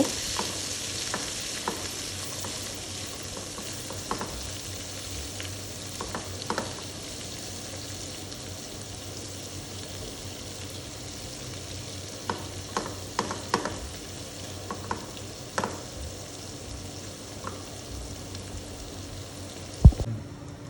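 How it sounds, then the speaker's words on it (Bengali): Small chopped pieces of a tomato frying in a pan for butter chicken, a low, steady sizzle continuing throughout with scattered sharp taps and scrapes of stirring, one louder knock near the end, no speech. "দিয়ে দিচ্ছি 1 পিস টমেটো। এটাকে ছোট ছোট করে টুকরা করে নিয়েছি। এটাকে একটু ভেজে নিব।"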